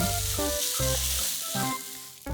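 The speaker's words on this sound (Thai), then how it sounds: "จากนั้นก็นำไปผัดกับข้าวสวยได้เลยค่ะ ให้เข้ากัน" Cooked rice stir-fried with spicy shrimp paste in a hot pan, a close hiss of sizzling under louder background music with changing notes.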